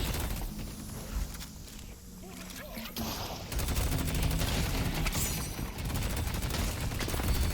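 Gunfire rings out in the Emissary video game, busy and continuous bursts of shots mixed with shuffling movement sounds, growing louder and denser in the second half, with a voice talking over part of it.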